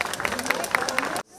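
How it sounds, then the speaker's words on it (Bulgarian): Warm applause from a folk festival audience in a Bulgarian village, steady clapping and crowd noise for over a second, then cutting off abruptly into near silence. "Нека ги насърчим с най-топлите аплодисменти"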